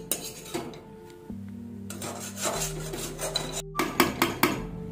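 Metal utensils scrape and clink against a pan while Darjeeling mimi noodles are mixed, with uneven stirring strokes, sharp taps and a low hum underneath.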